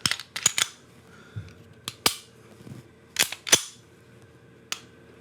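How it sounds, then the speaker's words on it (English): Sharp clicks from a Walther PDP 9mm pistol trigger resetting, a dozen or so crisp, close snaps in uneven clusters with short quiet gaps between them. "when you go for your follow-up shots, the reset is very audible and tactile"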